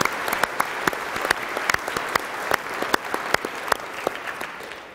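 A church congregation at solemn first vespers gives steady, dense applause for the choir and servers, many hands clapping at once in a continuous patter with a few sharper claps standing out.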